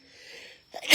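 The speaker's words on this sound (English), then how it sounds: "every time I talk about it, I sneeze" A single sharp sneeze bursts out loudly at the very end, after a brief quiet intake of breath.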